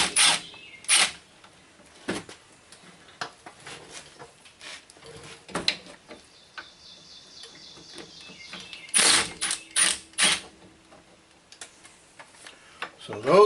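Ratchet wrench removing two 10mm bolts from a brake hose bracket on a 2000 Honda Civic EX, giving sharp close clicking bursts and metallic ticks, separated by quieter pauses.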